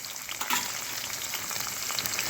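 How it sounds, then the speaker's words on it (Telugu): Thinly sliced onions fry in hot oil with garlic and cumin, a soft, steady sizzle with faint crackles throughout, fairly quiet and close. "వెల్లుల్లిపాయలు జీలకర్ర వేసేసాక సన్నగా తరిగిన ఉల్లిపాయలు వేసేసుకోండి."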